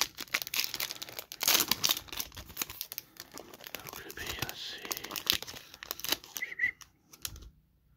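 A trading card pack wrapper is sliced and torn open with a knife in a close, crinkly burst of tearing and rustling, with quiet voices murmuring throughout.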